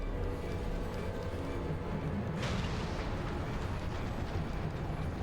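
Ship cannons fire in a Final Fantasy XIV airship battle, a dense rumbling barrage with a sharp blast near the middle, continuous booming and crackling throughout.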